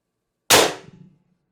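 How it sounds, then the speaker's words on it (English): A single sharp dry-fire crack from an IntruBuster Gen 2 airgun fitted with a Critical Situations Titan IB-2 drum magazine, loud and close with a brief metallic ring-out and nothing else around it. "That was a dry fire, so I don't know if I got a jam in there or not."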